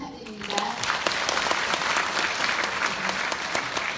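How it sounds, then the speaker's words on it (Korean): Audience applause at the close of a district office talk concert, a dense sustained clapping from a seated crowd lasting several seconds, with a host's voice faintly over it at the start. "모든 분들께 큰 박수 부탁드립니다."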